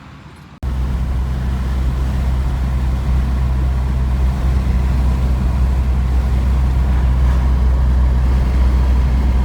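A Porsche 944 Turbo on its first test drive after repairs for low oil pressure: a loud, steady in-car engine drone and road rumble rise abruptly after a quiet start and hold evenly, with no talking.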